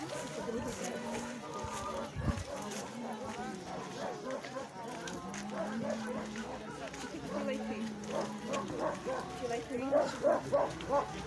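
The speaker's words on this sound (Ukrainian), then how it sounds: "Гавкає." A dog barks repeatedly in a village where a modern house is being built, short yaps scattered through a busy background with people talking over it, some barks close and loud near the end.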